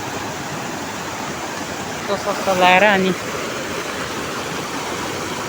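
A village stream rushes in a steady, broad hiss of flowing water, continuous and fairly loud, with someone speaking briefly over it midway.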